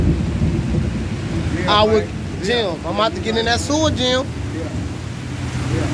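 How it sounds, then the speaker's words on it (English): Steady rain pours outdoors with a low rumble of thunder beneath, heard continuously while someone talks briefly over it. "Yeah, look at all this rain, though."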